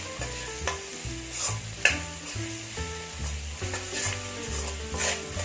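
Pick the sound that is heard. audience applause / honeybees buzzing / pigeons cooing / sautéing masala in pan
sautéing masala in pan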